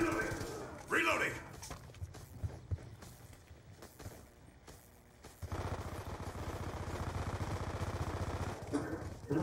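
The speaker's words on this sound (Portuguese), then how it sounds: "tem que dar dois tiros de 12 pra matar" Shotgun blasts and automatic gunfire ring out in Call of Duty: Black Ops 2 on PS3, loud and rapid, over constant excited talk from a player and game sounds.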